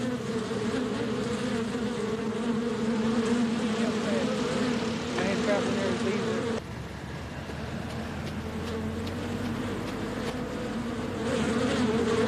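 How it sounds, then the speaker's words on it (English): A huge swarm of bees drones in a dense, continuous buzz, loud and near, with a faint rumble of vehicles behind it and no talk. "I didn't even notice the bees were on me until they started stinging."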